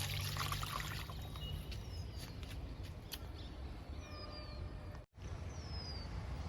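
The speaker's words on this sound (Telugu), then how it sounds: "లిక్విడ్ ఈ మొక్క కూడా ఇస్తున్నా" Liquid fertilizer poured from a container onto a potted plant outdoors after rain, a steady soft trickle and splash, fairly faint, with a brief drop-out near the end and faint birdsong behind.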